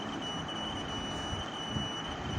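A buzzer in a homemade wire-loop game holds a steady electronic tone with a high whine, continuous and fairly loud for the whole stretch, with no talking over it.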